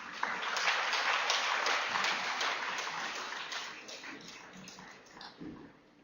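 Audience applause welcoming Rajiv Dixit onto the stage at a health lecture, a dense, sustained wash of clapping that stays loud for most of the stretch before thinning slightly toward the end.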